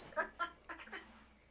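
Backyard chickens give a run of short, close clucks, about five quick calls in an uneven rhythm, with no talking over them.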